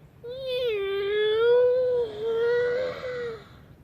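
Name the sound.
person imitating a loud cat meow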